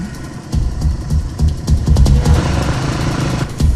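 Engine rumble of a motorbike drawing near on a road, a steady throbbing drone with low vibration that holds strong and close throughout, without any talk.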